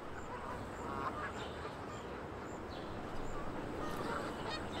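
Canada geese honk repeatedly across a golf course, the calls coming in scattered bursts at moderate distance over a steady outdoor background.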